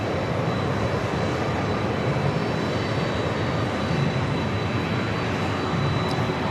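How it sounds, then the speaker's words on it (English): A Challenger 300 business jet roars steadily at takeoff power, a dense broadband engine rumble holding loud and constant throughout with no voices. "Duo Vista America Challenger 300 up next for takeoff"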